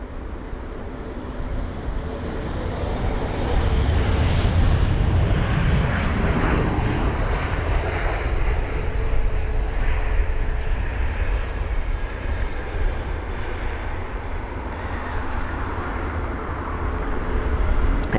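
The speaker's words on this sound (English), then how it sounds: "There's our Air Serbia 319." An Air Serbia Airbus A319 jet at London Heathrow, runway 27 right in use, gives a loud, steady engine roar that swells and holds, then thins slightly for the rest of the stretch, with no voices.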